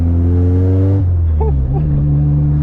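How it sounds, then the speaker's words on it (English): A Honda Civic with a K24 engine drives, its exhaust loud and raw through open headers, holding a steady deep drone with a shift in pitch partway through and a brief chirp above the rumble. "It's very loud off the headers. It's driving."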